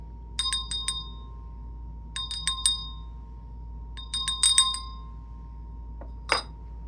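Small bells ring in three quick clusters of bright, tinkling strikes, fairly faint and spaced a couple of seconds apart, followed by a brief softer knock near the end; no one speaks.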